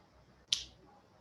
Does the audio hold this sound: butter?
no